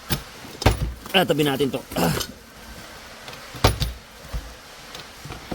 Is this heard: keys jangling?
yes